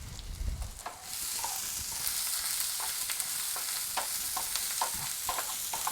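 Vegetables with poblano peppers sizzle loudly in a hot pan, a steady dense frying hiss with a spoon or spatula scraping and stirring in scattered strokes throughout, close up and with no talking.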